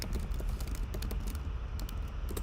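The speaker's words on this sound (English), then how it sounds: "So I'm actually gonna type in Amazon hot new releases" Quick, light clicking of keys being typed on a computer keyboard in a rapid, uneven patter, close and fairly soft, with no talking.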